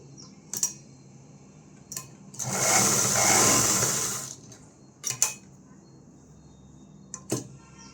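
Sewing machine stitching the inner seam of a blouse lining, running in one steady whirring burst of about two seconds, bracketed by a few short clicks and taps.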